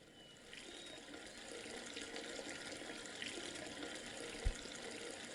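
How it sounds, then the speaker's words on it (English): Fountain water pours steadily into a basin in the Gabriel Knight 3 video game, a soft continuous splashing and trickle with one small knock near the end. "This just sounds like water pouring down a drain"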